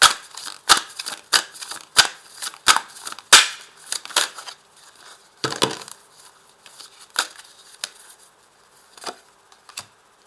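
Persian tarot cards being shuffled, giving a run of crisp, close card snaps and riffles at an irregular rhythm, with one longer shuffling burst in the middle and fainter flicks toward the end.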